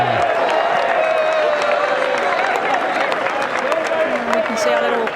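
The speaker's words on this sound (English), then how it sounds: "This could be a huge roar." A large golf crowd packed around a green at the Waste Management tournament lets out a sustained, loud roar and cheer, with a commentator's voice running over it throughout.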